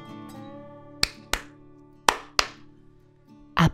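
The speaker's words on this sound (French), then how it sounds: "Applaudissait les gants." Sharp, isolated clapping sound effects in a read-aloud children's story, several crisp claps in irregular pairs standing out over a quiet musical backing, with no voice over them.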